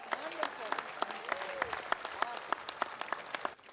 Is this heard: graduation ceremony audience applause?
yes